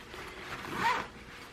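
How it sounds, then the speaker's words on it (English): Metal zipper on a plastic backpack pulled once, a short quiet rasp swelling and fading in a still room. "And then you have this metal zipper"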